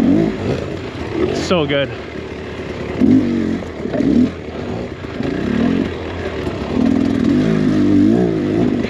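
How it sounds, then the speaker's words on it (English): Dirt bike engine running in a newly installed piston, a close, uneven revving buzz rising and falling in repeated pulses with a quick high whine early on, and a voice speaking briefly over it. "Got the new piston in the bike, so we are just breaking it in here."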